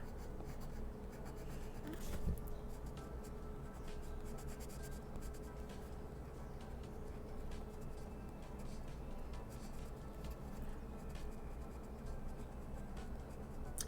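A pencil scratches steadily across paper as a comic page is drawn by hand, a close, quiet, continuous scratching with small strokes and taps throughout.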